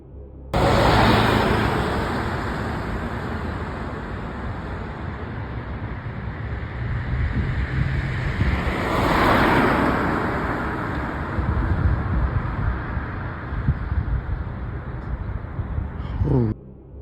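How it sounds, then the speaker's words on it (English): Water moving and washing at night beneath power lines, a steady broadband rush with brief swells, heard outdoors with no talking. "No, that's the water."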